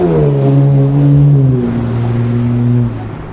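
A car with a loud aftermarket silencer exhaust revs up, holds a droning roar that bends slowly in pitch, then drops away near the end; it is close and loud, with no voices.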